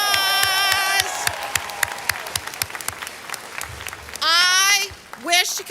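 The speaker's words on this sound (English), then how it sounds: "Let's give him a round of applause." Audience applause at a 2023 high school graduation ceremony for Rhodes College and Career Academy, with crisp claps at first and a loud sustained tone and other bursts cutting through, fading to sparse clapping.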